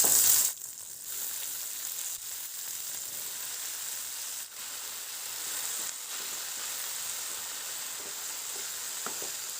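Leafy greens go into a pan of cooking potatoes and tomatoes for an Assamese meal, bringing a sharp burst of sizzle at first, then a steady, softer frying hiss with faint stirring scrapes, and no talk.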